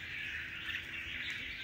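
A red-whiskered bulbul, a strong lead bird, gives a continuous, bright chattering call, faint and steady, with no talk over it.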